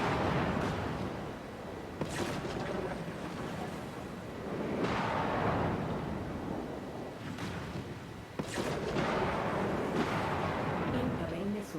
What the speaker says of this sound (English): Can't take any more of these missile hits like that.